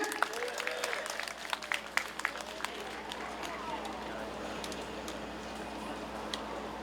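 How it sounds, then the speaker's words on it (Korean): A crowd claps and cheers at an outdoor railway electrical workers' union rally. Dense, steady applause with sharp hand-clap transients runs throughout at a moderate distance. "힘찬 박수와 함성으로 모시겠습니다."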